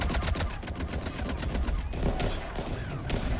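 Rapid bursts of gunfire in the video game Mass Effect 3, a dense close fusillade of sharp repeated shots continuing through the whole stretch with no talking.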